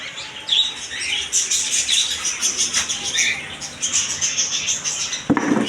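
A dense chorus of chirps and whistles fills a pet bird shop, with lutino red-eye cockatiels among the birds, calling continuously and close, with one sharp knock near the end.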